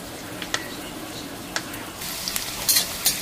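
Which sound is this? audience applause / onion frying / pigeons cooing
onion frying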